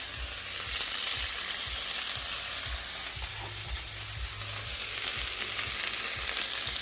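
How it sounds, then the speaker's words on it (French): Spinach and parsley sizzle steadily in a hot frying pan while a wooden spoon stirs them, giving soft rhythmic scraping knocks under a continuous close, bright fry hiss with no talking. "Rajouter des persil dans le mélange, mélanger jusqu'à les épinards sont réduits."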